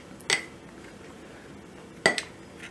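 A spoon strikes a dish twice while topping is scooped out for a homemade bread pizza, two separate clinks well apart in a quiet kitchen.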